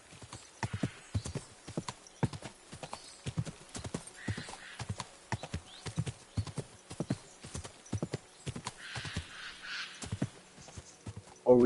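Horse hooves clip-clop steadily and close in Kingdom Come Deliverance 2, a medieval role-playing game, with a brief whinny near the end and no talk over the rhythmic footfalls.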